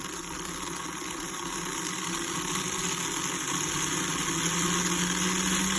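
A Scalextric Renault RS-03 slot car motor and gears run on the bench with the rear wheel lifted, a steady close whine and hum that rises slightly as the voltage climbs, no talking.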